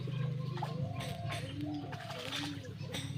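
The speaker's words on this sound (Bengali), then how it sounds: "এখানে আমি কিছু কবুতর পালন করে থাকি।" Pigeons coo with soft, repeated low calls at an agro farm on a sunny morning while they bathe in fresh water, set against a steady background hum.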